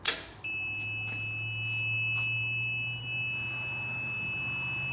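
Two electric cart motor controllers powering up give a faint repeating electronic beep and steady tone, set against a low constant hum and background noise, with no voices.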